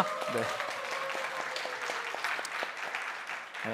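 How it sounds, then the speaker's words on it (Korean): Church congregation applauding in welcome during a Korean service, steady close clapping that carries throughout with a few voices speaking over it. "제가 박수로 환영하도록 하겠습니다"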